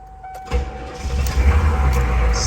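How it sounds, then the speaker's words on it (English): A 6.5L turbo diesel engine cranks briefly and then catches, settling into a steady, fairly loud rumble close by with no talking. "Let's see if she starts."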